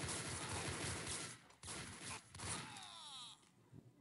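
Rapid video-game gunfire from shooting enemies in Max Payne Mobile, dense bursts of shots with thuds for about three seconds, then a lone ringing tone as the firing stops.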